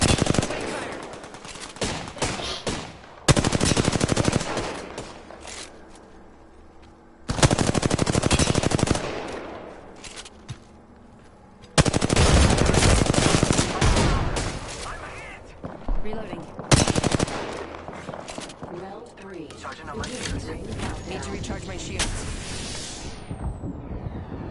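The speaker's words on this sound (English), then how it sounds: "They're shooting at me." Gunfire in a PS4 shooter video game: long bursts of rapid automatic fire alternating with quieter stretches, loud and close, with players talking over it.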